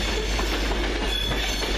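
A Virgin Trains West Coast train, class 390 unit 390157, running into Carlisle station on the London Euston service, gives a steady, loud rumble of wheels and rail noise throughout with a constant low hum and no talk.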